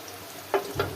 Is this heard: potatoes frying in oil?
yes